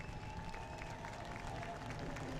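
A grandstand crowd at New Smyrna applauds the winner of a Hoosier Series Pro Late Model race as he climbs from his car; a steady, somewhat distant spread of clapping and cheering runs throughout.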